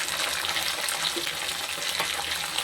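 Onions fry in oil in a pan for a Tamil fish curry, giving a steady, close, crackling sizzle that runs unbroken through the short clip with no voices.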